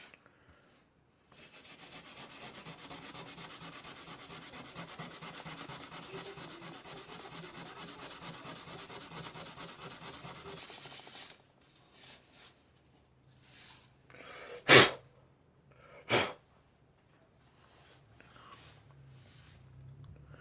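Steel wool scrubs leftover toner off an acid-etched copper circuit board, a steady close abrasive rasping that runs for about ten seconds, then stops, leaving faint rubbing and a couple of sharp knocks.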